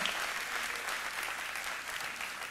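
A church congregation applauds steadily, a dense wash of clapping hands filling the room evenly throughout, with no voices rising above it.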